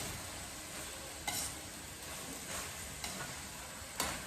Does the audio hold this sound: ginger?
yes